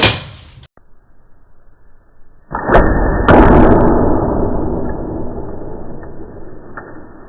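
After a quiet lead-in, a Grim Reaper Micro Hybrid broadhead arrow strikes a cinder block with a sharp, loud impact. A ringing, rattling resonance follows and slowly fades over several seconds.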